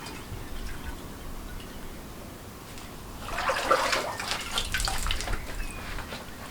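A watering can fills with running water for garden peppers, a low steady background giving way to a louder splashing gush midway that continues to the end, close by and without talk.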